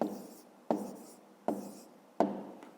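Handwriting on paper while working a school maths problem: three or four distinct pen strokes, each starting with a sharp scratch and trailing off, close and quiet.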